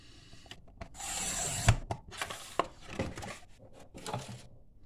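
Paper is cut down to size for a craft project, heard as a quiet run of close scraping and slicing strokes with light taps and rustles, all fairly faint and without speech.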